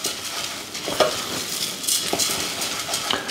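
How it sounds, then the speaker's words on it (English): Arborio rice being stirred through melted butter in a pan, a soft granular scraping with faint sizzle and occasional utensil taps, close and steady for a few seconds with no voices. "as soon as we add our rice, we want to again stir it and make sure that the rice gets completely covered with the butter"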